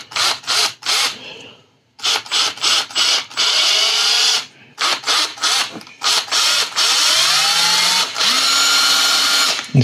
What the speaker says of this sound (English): I'm going to drill this hole first.